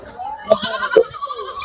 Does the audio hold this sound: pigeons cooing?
no